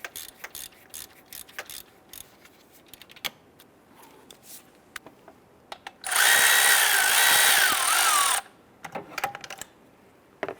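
A power tool rattles and whirs loudly for about two seconds, loosening an alternator bolt on a 2005-2010 Chrysler 300, amid close clicks, ratchet taps and handling clatter before and after.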